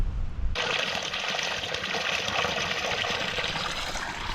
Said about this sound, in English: Spring water. This is great.